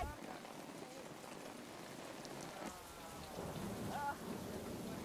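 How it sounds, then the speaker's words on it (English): Heavy torrential rain pours in a dense, steady hiss with a low rumble beneath it, as in a tropical downpour on Hawaii, the wash continuous and full throughout with a faint swell near the end. "it rains in torrents for a month"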